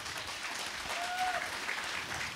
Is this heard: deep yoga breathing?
no